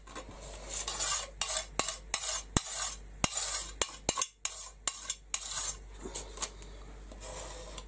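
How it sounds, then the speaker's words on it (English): Excess craft material for a mixed media butterfly frame is scraped off into a pot, producing close, sharp metallic taps and clicks between soft scraping and rubbing strokes, irregular but frequent. "Scrape the excess off and put it into my pot."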